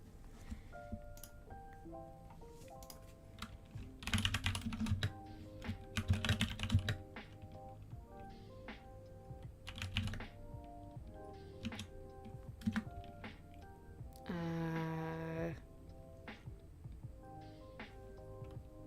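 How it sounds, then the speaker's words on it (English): Fingers tap on a computer keyboard in quick, uneven bursts, close and fairly quiet, with soft background music playing underneath and occasional pauses between runs of keystrokes. "I was just typing Luke a message"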